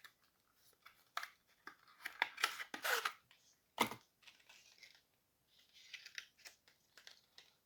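A Baseus product from an AliExpress parcel being unpacked at close range, giving bursts of crinkling plastic and paper, snipping and tearing, with one sharp crack near the middle and quieter rustling toward the end.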